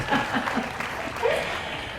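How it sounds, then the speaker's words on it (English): Audience clapping after an awkward question-and-answer moment at a talk on marriage. A steady patter of applause runs throughout, mixed with a few voices. "Round of applause."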